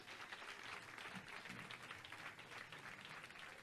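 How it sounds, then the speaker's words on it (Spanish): A street evangelism crowd in Barranquilla, Colombia, applauding for Christ, a steady dense wash of clapping lasting the whole stretch at moderate level with no clear speech over it. "Un aplauso para Cristo."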